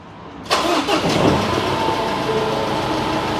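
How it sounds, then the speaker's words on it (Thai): A Ford diesel car engine with a fault, having covered over 300,000 km, cranks and catches abruptly, then settles into a loud, steady, slightly rough idle nearby, with no voices. "สตาร์ทออกมาควันขาว"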